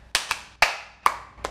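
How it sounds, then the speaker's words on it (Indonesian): Five sharp hand claps spaced unevenly, loud and close in a quiet room, with no talking, from a children's Sunday school worship song about clapping. "coba tepuk tangan"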